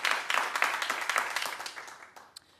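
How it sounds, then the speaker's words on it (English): Studio audience applause at a daytime talk show, a burst of crowded clapping that tapers off quickly, with a few scattered claps trailing at the end. "Now you can clap."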